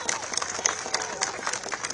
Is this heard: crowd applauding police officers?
yes